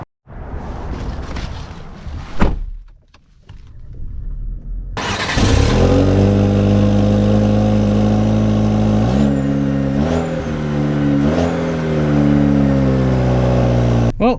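A 2024 Chevy Colorado WT Turbo Max pickup truck, its engine cranking to life and then settling into a loud, steady drone that climbs in pitch as the truck pulls away, easing off and rising again twice.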